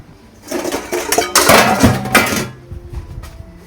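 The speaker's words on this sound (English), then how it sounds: "Dishes always fall on me." Dishes and pans fall and clatter in a home kitchen during cooking, a loud burst of crashing, clinking impacts over about two seconds that settles into scattered rattles.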